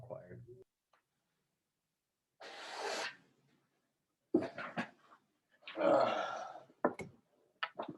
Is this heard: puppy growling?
yes